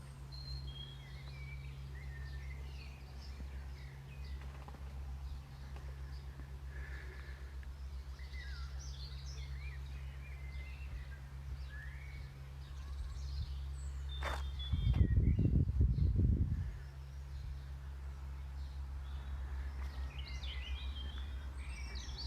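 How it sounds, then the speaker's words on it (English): Many birds chirp and call across a garden in a quiet outdoor scene, with scattered tweets near and far over a low steady hum, broken briefly by a louder rustle or footstep sound near the middle. "A whole cacophony of birds are calling around me right now."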